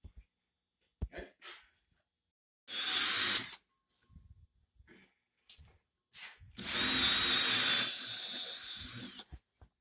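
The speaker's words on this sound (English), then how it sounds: "our next process will be to drill the pilot holes for the screws." A power drill bores pilot holes for screws in a track panel for a live steam railway, two loud sustained bursts separated by quiet handling noises and brief clicks.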